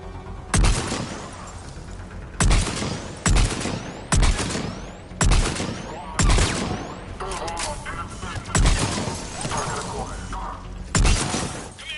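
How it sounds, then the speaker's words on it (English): Mortar fire and gunfire in a war video game: repeated heavy bursts of explosive fire arrive every second or so, loud and sharp, over a constant low battlefield rumble, with radio-style voices talking between the blasts. "Commander, we're getting a lot of mortar fire."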